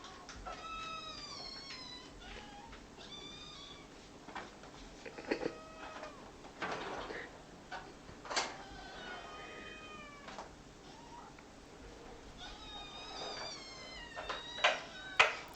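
Several cats meow again and again, high wavering cries coming from a few places at once, some near and some farther off, with faint background noise and no talk.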